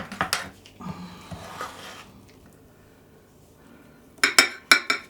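Serving spoons and other cutlery clink and rattle as a spoon is fetched from a kitchen drawer: a few sharp metallic clinks at first, a quieter shuffling stretch, then a fresh burst of close, bright clatter.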